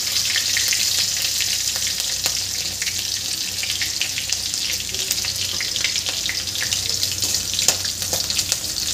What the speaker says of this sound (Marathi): आणि कढीपत्ताही घालून घ्यायचा आहे.